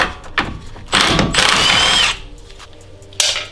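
A power tool whirs in short bursts and then one longer run while removing the 17 millimeter center nut from a BMW E90 strut, with clicks and quiet gaps between bursts.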